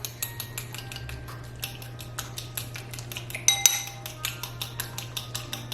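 A whisk clatters rhythmically against a bowl of coconut oil and vegetable oil for pineapple tarts, quick, steady metallic taps close by, with a low hum in the background.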